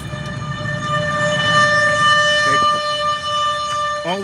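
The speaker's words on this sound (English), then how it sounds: "All the sirens are going off here in town." Tornado warning sirens sound across town in steady sustained tones, loud and close, with a faint voice briefly heard over them.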